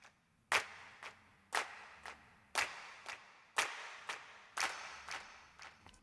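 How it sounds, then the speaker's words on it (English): Sampled hand claps in a Logic Pro production, landing in a steady rhythm about once per second, each sharp crack trailing off in a growing reverb tail, with no voices. "The claps are just getting more reverb"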